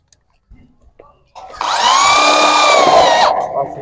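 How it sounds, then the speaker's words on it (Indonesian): A power drill bores into a light steel roof truss, starting after a few small knocks and whining loudly and steadily for nearly two seconds before it winds down, close by with no talk. "setelah rata baru dibor sebelah sininya"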